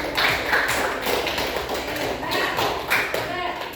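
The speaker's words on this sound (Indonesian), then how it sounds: "berarti tepuk tangan buat Mas Badar yang sudah bangun" In a classroom lesson, a group claps in quick, uneven bursts of hand slaps that mix with ongoing talk and children's voices.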